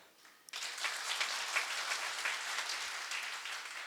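Applause suddenly erupts from a crowd at a Hindi poetry recital and continues steadily, a dense wash of many hands clapping with no speech.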